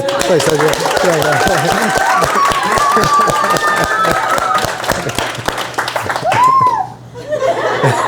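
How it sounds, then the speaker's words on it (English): An audience at a personal growth and professional development event claps and laughs together, steady applause filling the room beneath a speaker's voice before thinning toward the end. "Go ahead, let's clap."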